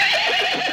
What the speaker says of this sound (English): Yes, you are making the correct sound. You neigh. You are a horse.